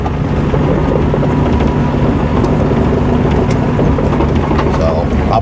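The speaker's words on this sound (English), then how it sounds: "I'm going to hop in the track loader" The diesel engine of a track loader runs steadily, a loud continuous low rumble with a faint tonal hum, unbroken throughout and close by, with some rough wind-like noise on top.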